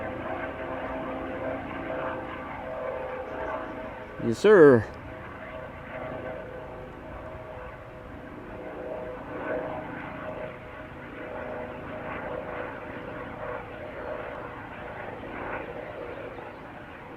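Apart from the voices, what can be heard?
Lifeliner medical helicopter flying overhead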